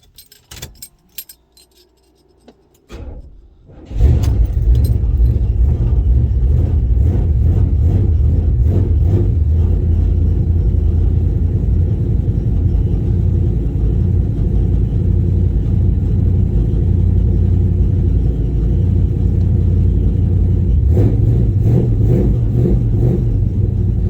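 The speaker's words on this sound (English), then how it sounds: "so you hear my speedometer making some hellacious fucking noises" A 1970 Chevelle on a cold day, its engine roaring steadily close by after starting up, with a rattling, jangling noise from the speedometer running under the engine drone.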